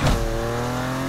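A BMW M2 with an inline-six engine swap in the racing game NFS Unbound lets out a brief, loud engine note with a sharp onset and a sustained harmonic drone, without talk.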